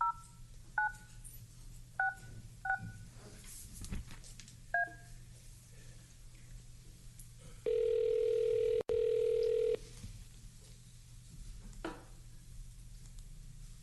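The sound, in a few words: telephone number being dialed, DTMF tones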